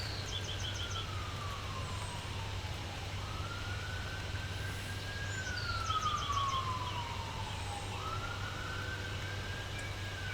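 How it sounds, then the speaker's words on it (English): An emergency vehicle's wailing siren sounds in the distance, its sweeping pitch rising and falling steadily while drawing slowly nearer over a constant low background rumble. "Siren in the distance coming this way, getting louder."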